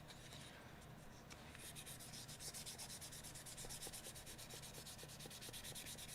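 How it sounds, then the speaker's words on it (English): Scuff-sanding a VW body panel by hand with 400-grit paper before primer: steady rhythmic rubbing strokes, close and fairly quiet, in a quick repeating back-and-forth pattern with no talking. "we gotta build a little tooth by scuffing it down"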